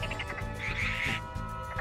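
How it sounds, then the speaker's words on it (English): Toads released by the Release Toad shard in Bloodstained: Ritual of the Night give short croaking calls over a steady musical backdrop, a brief cluster of ribbits standing out in the middle. "Release Toad! Alright, we gotta check this one out. As you can see, it sends out toads."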